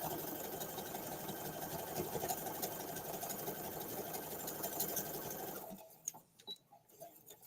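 A sewing machine runs a straight stitch in a steady, continuous whirring rattle for about six seconds, then stops, leaving faint scattered clicks and handling noises.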